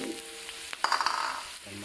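Salted fish frying in a wok for village-style fried rice, a steady close sizzle and crackle with a burst of louder spattering stir noises midway, no voices.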